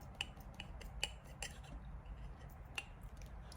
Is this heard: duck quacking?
no